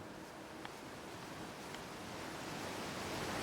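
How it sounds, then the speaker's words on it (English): A waterfall in the video game Outer Wilds, heard as a steady, broad rushing wash of water that holds even and loud for the whole stretch, swelling slightly near the end. "A waterfall? Of course."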